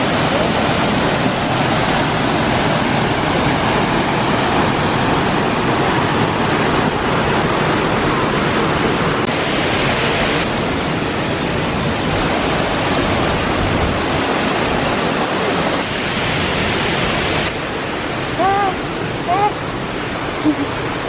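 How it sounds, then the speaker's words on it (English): A mountain waterfall on a hike near Kobe, Japan roars as a steady, dense wash of falling water close by. It fills the whole stretch, with faint chirps near the end. "Looks like there's an even better sight to the waterfall here."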